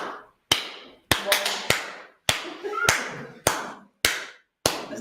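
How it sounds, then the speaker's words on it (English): Sharp, sparse claps from a few people at a tech conference talk, about ten separate loud smacks with short gaps between, each followed by a brief room echo. "does someone want to come in front and clap for us?"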